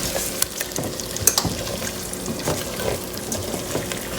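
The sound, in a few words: mixing masala into stuffed eggplant curry in pan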